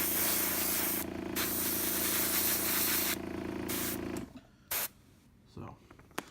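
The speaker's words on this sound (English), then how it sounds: "I'm gonna finish spraying all this little stuff blue" Steady hiss of aerosol spray paint on a model running continuously for several seconds, then stopping, followed by a few short spray bursts.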